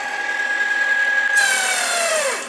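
The knife sharpener of a garment and footwear cutting machine runs with a high, steady grinding whine that drops in pitch and fades as it winds down near the end.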